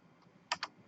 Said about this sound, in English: I'm going to type that in there just so I have it.